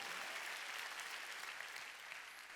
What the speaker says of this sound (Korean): 법을 지킨 걸 믿으면 박수 치라니까